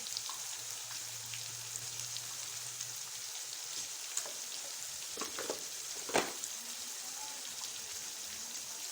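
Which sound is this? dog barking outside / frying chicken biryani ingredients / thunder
frying chicken biryani ingredients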